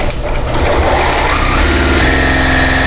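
A sewing machine runs steadily at close range, its needle stitching fast, even rhythm through a paper-pieced quilt block along a printed foundation line.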